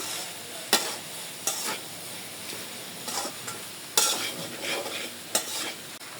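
Broccoli, potato and shrimp curry cooks uncovered in a pan with a soft continuous sizzle, broken by several sharp scrapes and clatters of stirring, close and moderately quiet.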